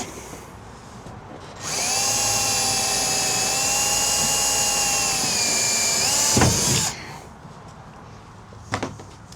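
A high, steady power drill whine bites through the sheet metal of a Ram Promaster van's rear door for several seconds, then winds down with a short rattle; a brief second burst follows.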